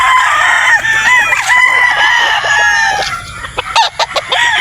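A gray gamefowl rooster with a bright red face crows on a game farm, loud and near, with a long wavering crow followed by choppier calls and clucks toward the end.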